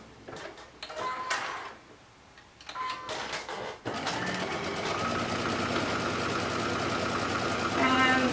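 Sewing machine basting swimsuit top pieces with a narrow seam allowance: a few short bursts of stitching, then a steady, continuous whirring run, close up and fairly quiet.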